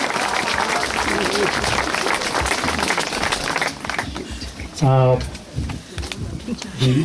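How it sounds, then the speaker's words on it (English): A crowd gathered outdoors at a Vietnam Veterans Memorial ceremony in New Mexico gives a round of applause, loud scattered clapping for a few seconds that fades as voices and talk take over. "Let's give them a big round of applause here."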